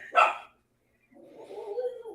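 A pet dog gives one sharp bark, then after a short pause lets out a lower, drawn-out whine or grumble, heard nearby in a home during a podcast-style conversation.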